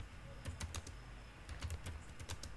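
Quiet typing on a computer keyboard, scattered keystrokes in short uneven bursts over a low steady hum, with no talking.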